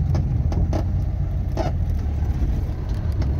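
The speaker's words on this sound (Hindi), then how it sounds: "अब देखें मैंने पूरा क्लच छोड़ दिया है और गाड़ी चलना शुरू हो गई है।" A manual car pulls away in first gear, its engine a steady low rumble close by with faint rhythmic mechanical ticks, alone without talk.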